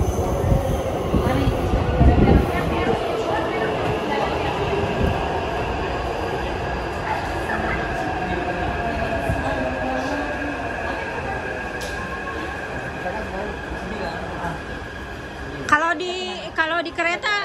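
Steady rumble and rattle inside a moving train, with faint rail squeals, while people talk over the noise.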